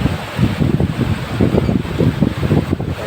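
Strong gusty typhoon wind roars and buffets loudly in bursts, with a rumbling, rushing texture and no voices.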